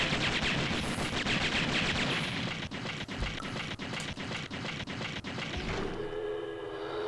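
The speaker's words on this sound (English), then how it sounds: "I'm just gonna keep firing at whatever." Rapid, continuous gunfire from the arcade shooter Metal Slug 6 rattles in dense bursts with sharp individual shots, then cuts off near the end, leaving a quieter tonal game sound.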